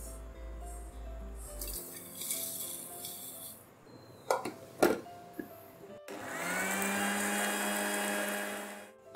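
An electric blender grinds roasted spices in a jug, a steady whirring hum of about three seconds. Scattered kitchen clinks and drips come before it.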